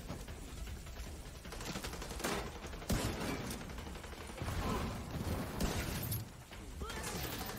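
Rapid gunfire rattles almost nonstop in the video game The Division 2, dense bursts of shots overlapping at a steady, moderately distant level with no talking.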